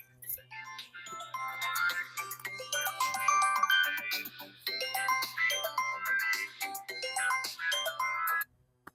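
A mobile phone ringtone chiming a bright repeating melody at home, playing loudly in two long phrases with a brief gap between them, then stopping abruptly.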